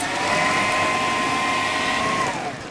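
A food processor blends biscuit crumbs with melted butter, a steady loud motor whir with a high whine that holds evenly for a few seconds before slowing at the end.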